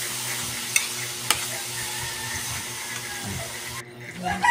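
A pot of pig intestine dinuguan bubbles and simmers in a steady sizzling hiss, with a few sharp clinks of a utensil against the pot before the noise drops away at the end.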